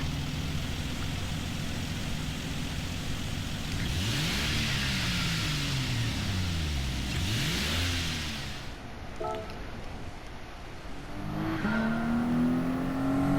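A 1988 Toyota Supra engine in a racing video game revs and accelerates past in sweeping rising and falling pitches, loud and continuous, with a faint whine near the end.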